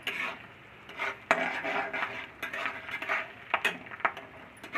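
Garlic fries in a pan for ponnaganti leaf fry, a steady soft sizzle under repeated clinks and knocks of a utensil against the pan.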